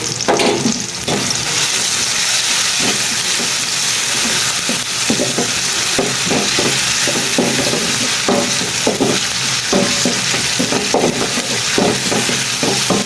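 Ginger and garlic paste sizzles steadily in a hot pan, with a continuous loud frying hiss broken by repeated scraping stirs throughout, no voices present.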